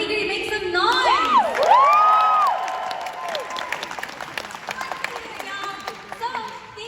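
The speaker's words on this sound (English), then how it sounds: "Let me hear you make some noise!" A high school talent show crowd erupts in cheering, whoops and rising shouts over steady applause, loud at first, then settling into scattered clapping and chatter.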